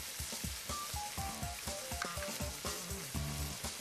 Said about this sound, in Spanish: Y aquí voy a flambear un poco de brandy